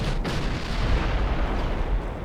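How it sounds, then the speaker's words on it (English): Battleship guns firing on heavy cruisers during a naval battle in the Ultimate Admiral Dreadnoughts game, a sharp blast at the start giving way to a heavy rumbling boom that fills the whole short clip. "Heavy cruisers take some big hits from the battleships"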